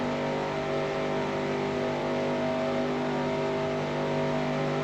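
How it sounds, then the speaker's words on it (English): A NASCAR race car engine from NASCAR Racing 2003, running alone on a 1994 Daytona Winston Cup race, droning loud and steady with a constant high-revving tone and no talk. "the engine sounds different when you're by yourself"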